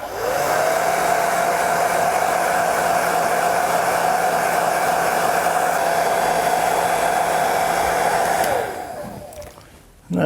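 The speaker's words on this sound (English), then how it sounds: "Turn the hairdryer on it." A hairdryer blows steadily on liquid leather colour dabbed onto a small tear repair in a car leather seat, a loud close whine with a constant hum that runs unbroken for about eight seconds before switching off.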